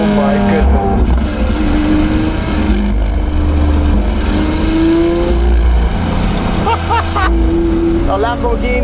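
A Lamborghini Aventador SV Roadster with a 6.5-litre naturally aspirated V12 revs loudly on the Autobahn, with rising and falling engine howls that surge repeatedly close to the microphone while people talk over it.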